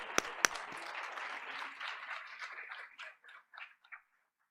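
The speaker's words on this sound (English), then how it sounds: "Give them another round of applause." Audience applause after a performance at a school board meeting, opening with a couple of sharp claps before a dense round of clapping that thins out into scattered claps and stops. The sound is moderately distant.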